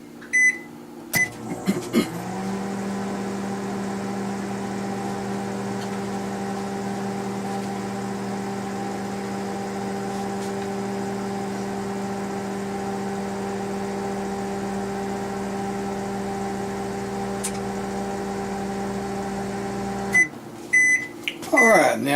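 A microwave oven hums steadily for about twenty seconds while cooking an egg breakfast, with door clicks and brief handling noises at the start and end.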